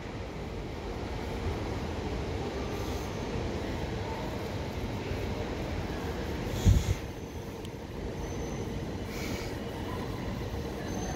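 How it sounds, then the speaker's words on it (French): An Amsterdam GVB metro train arrives at a station with a steady low rumble of wheels on rails and a single sharp metallic clunk midway, with no voices. "il y a toujours une rame qui arrive"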